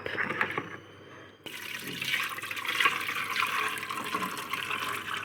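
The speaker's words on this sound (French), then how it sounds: "On va mettre notre liquide dans la marmite." Liquid for a Gabonese nyembwe sauce pours steadily into a cooking pot, a continuous splashing gush that starts after a brief pause and carries on to the end.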